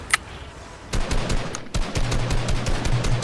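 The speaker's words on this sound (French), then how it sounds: "J'essaie de regarder où il nous tire dessus." Video game gunfire in a random-weapons shooter match, with sharp shots near the start followed by rapid bursts of repeated fire that grow denser and louder, heard alone without talk.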